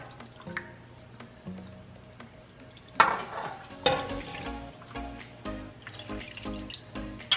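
A cornstarch and chicken broth slurry is poured into a pan of turkey wing gravy, with faint dripping and liquid splashes, then a few soft stirring clinks and sizzles, quiet and close.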